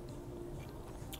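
Close, steady chewing of garlic naan with soft biting and squishy mastication, heard alone with no talking.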